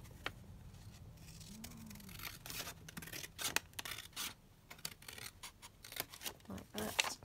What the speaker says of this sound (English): I'm just going to cut it here.